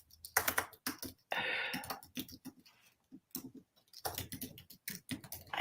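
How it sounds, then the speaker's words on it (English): Rapid typing on a computer keyboard indoors, with bursts of close, crisp key clicks separated by short pauses and a few heavier strokes, no talking. "I know that typing probably sounds really loud."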